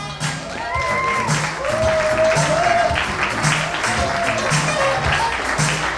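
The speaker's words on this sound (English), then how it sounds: "And a nice big round of applause for our usher." Wedding guests applauding as the bridal party is introduced, a sustained, fairly loud patter of clapping with cheering and voices mixed in throughout.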